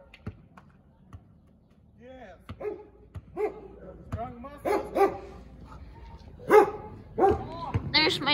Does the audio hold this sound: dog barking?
yes